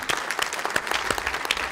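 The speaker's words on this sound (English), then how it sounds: "So I'd like to give a big round of applause to all the students and everybody that made this together happen." An audience at a student-run Project Censored event gives a big round of applause, with brisk, dense clapping from many hands close by and a faint murmur of crowd.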